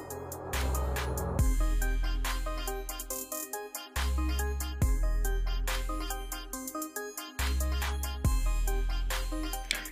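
Startup jingle from a Gionee Max Pro phone, a loud melodic ringtone-like tune repeating in three phrases with bright chimes over a steady bass tone, playing alone with no talking.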